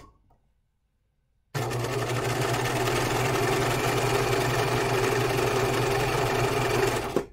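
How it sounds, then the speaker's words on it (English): A serger overlock sewing machine stitching seams in muslin fabric, running steadily with a loud, even mechanical whir and hum for about six seconds after a quiet start, with no talk. "I'm gonna serge those yokes together, or yokes, those seams together"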